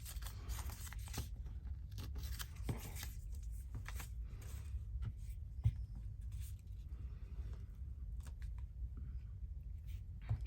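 Scissors snipping and trimming a sheet of craft paper at close range, soft crisp cuts and light paper rustles repeating irregularly against a quiet room.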